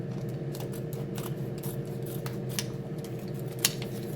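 Scissors snipping open a 100 g parmesan package in a home kitchen: faint, sparse clicks and snips over a steady low background hum.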